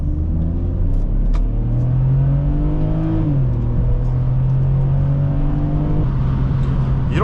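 A 2006 BMW X3 3.0i accelerates out of a turn, its engine droning steadily from inside the cabin with a rising pitch, a brief dip as it shifts, then a renewed climb under constant road rumble.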